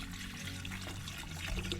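Filtered water mixed with a little alcohol pours steadily into a snow globe during repair, a continuous soft gurgling stream alone.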